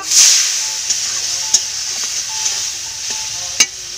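Spiced masala of chilli, coriander, turmeric and cumin powder stirred in a pan with a little water, giving a loud close hiss and sizzle with a few sharp clicks of the spoon against the pan.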